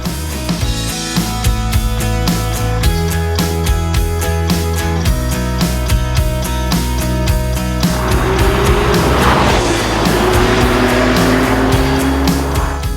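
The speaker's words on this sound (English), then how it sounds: "This is a brand new Porsche 911 with turbochargers" A brand-new turbocharged Porsche 911 drives hard on Canary Islands roads, its engine loud and continuous with tire noise, mixed with a rhythmic backing beat throughout.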